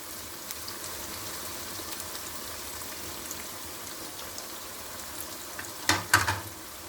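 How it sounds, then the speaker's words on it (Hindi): Onions frying in hot oil, a soft steady sizzle with faint crackle, swelling into a louder hiss and spatter near the end as they hit the pan; no talking. "तेज़ गरम करके ऑयल, फिर आप इसमें प्याज डालिएगा।"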